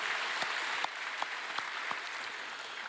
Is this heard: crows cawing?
no